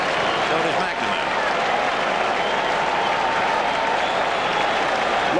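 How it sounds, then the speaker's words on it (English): Big Fenway Park crowd at a 1986 World Series game roaring and applauding continuously, a dense, loud wall of cheering with a broadcaster's voice over it. "Crowd really alive now, trying to root the Oil Can out of it"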